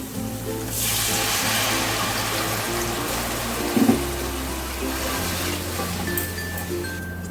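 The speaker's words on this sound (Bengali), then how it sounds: "এবার আমি দিয়ে দেবো পরিমাণ মতন জল" Water poured into a pot of well-fried spice masala while cooking egg biryani gives a steady, close rushing splash that runs for several seconds, with a brief louder gush midway.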